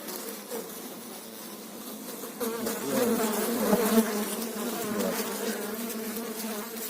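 Honeybees buzz densely inside an opened hive box, a close, continuous drone that swells in the middle and keeps going steadily throughout.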